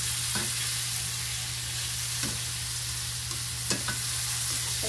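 Tofu sizzles steadily in a frying pan while a utensil stirs it, giving a few sharp scraping clicks over a constant hiss, close up, no talking.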